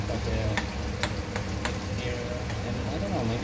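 Garlic fries in a pan alongside tenderised cheap beef steak, sizzling steadily while sharp scraping clicks from stirring pop out every so often.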